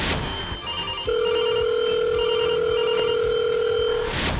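A telephone rings in a news bulletin, one steady electronic tone held for about three seconds, loud and alone with no talk over it.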